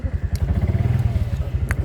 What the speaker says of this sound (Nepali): अटो आइपुग्यो अटोमा